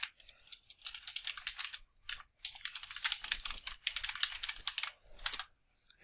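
Typing a memo on a computer keyboard: quick bursts of close, crisp key clicks broken by short pauses, with no talk.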